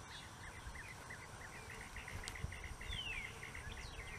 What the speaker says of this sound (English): And I can already hear the bees.